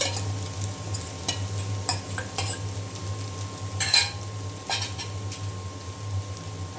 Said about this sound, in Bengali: এখন দিয়ে দিলাম আমি ভেজে রাখা চিকেন।